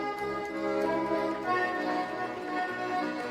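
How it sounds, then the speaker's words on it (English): Accordion plays a Christmas sea shanty, a steady sustained reed melody with chords, loud and continuous with no talking. "Oh god, it's an accordion."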